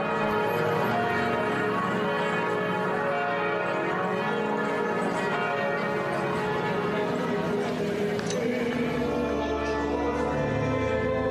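Cathedral bells of France ring out continuously, rich overlapping tolls resonating in a reverberant space, loud and sustained throughout.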